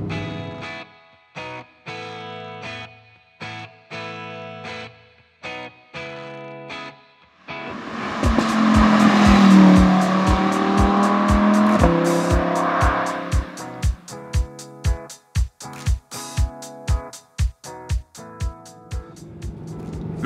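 An Audi R8 V10 Plus in Dynamite Red screams at high rpm, the engine note climbing through gears in sharp bursts, then a long sustained wail before a string of rapid throttle blips and pops, loud and close.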